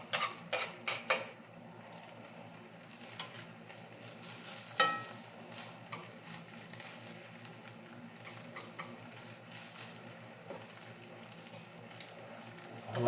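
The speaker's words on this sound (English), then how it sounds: "that's enough to get a nice little sizzle going in the pan" Cabbage burgers sizzle gently over low heat in a #8 Wagner cast iron skillet, a soft steady frying hiss under occasional scrapes and clinks of a utensil against the pan.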